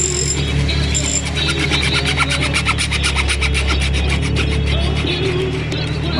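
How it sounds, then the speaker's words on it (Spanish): A small metal tube is cut by hand with a saw or file before bending, producing a rapid, rhythmic scraping stroke repeated steadily over a low background hum, close and moderately loud. "Cortamos el tubo"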